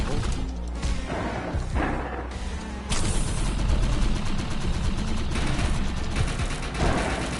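Rapid gunfire from hip firing at close range in the video game Defiance, with dense bursts of shots that grow louder and more sustained partway through, layered over busy in-game noise.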